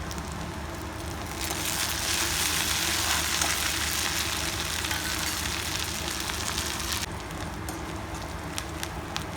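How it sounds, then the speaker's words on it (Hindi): Bamboo shoots (karil) with chili fry in a pan, giving a steady dense sizzle that swells louder through the middle and settles back, with faint stirring clinks. "संगवारी मन एमा डाल देबो हमार करील ला अगले बढ़िया से भून लेबो।"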